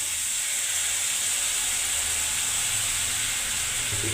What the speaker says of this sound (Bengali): এবার লবণটা দিয়ে মশলাটা কষে দিচ্ছি।